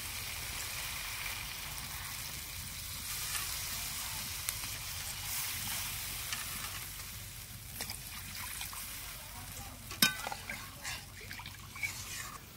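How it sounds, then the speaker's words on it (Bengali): Water goes into a fried spice paste for chitol fish tel jhal, and a quiet hiss and sizzle rises in the pan. A few sharp splashes and clinks come near the end. "এখন দিয়ে দেব জল।"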